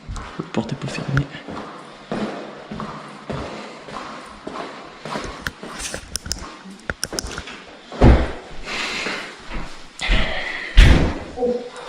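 Door being forced open in a house, with several loud slams and thuds around 8 and 11 seconds amid shuffling footsteps and bumps, while someone talks throughout.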